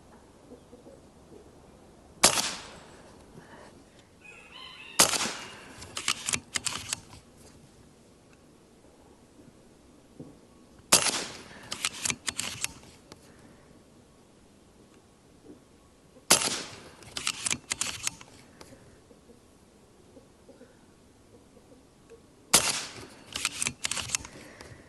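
Five sharp shots from a BRK Ghost .30 air rifle during an ammo test, spaced several seconds apart, each a crisp crack with a short tail followed by quieter handling noise.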